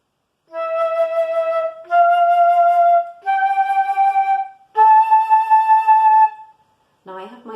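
Solo flute playing a slow series of sustained middle-register notes, each held for about a second or more with brief gaps between, clear and close with no accompaniment.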